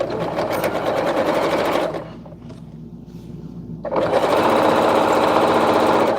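A sewing machine runs fast while top stitching fabric, a dense rapid whirring chatter that stops for about two seconds and then starts again, loud and close, with no talking.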